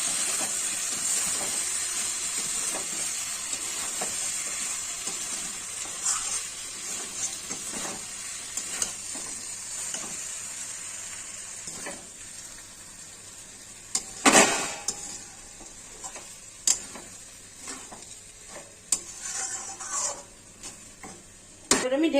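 Crushed garam masala tipped into ghee in a hot pan for muri ghonto, a strong steady sizzle broken by spatula scrapes and a few sharper clatters of metal.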